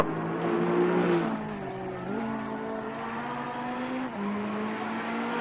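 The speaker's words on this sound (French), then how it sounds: "derniers hectomètres pour la Ferrari 488 SMP Racing" Ferrari 488 race car of SMP Racing in a sim racing game on the Bathurst circuit, a steady engine drone with pitch shifts through gear changes, heard alone.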